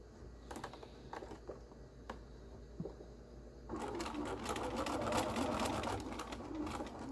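A sewing machine sews elastic onto a bouffant scrub cap, beginning with scattered clicks and taps, then running in a steady, close buzzing stitch for the last few seconds.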